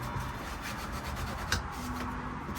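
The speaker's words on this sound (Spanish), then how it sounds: "Con la lijada sale." Sandpaper rubbing a dried varnish drip off a reused wooden wine box, a quiet, steady scratchy friction in short back-and-forth strokes, close up and without voices.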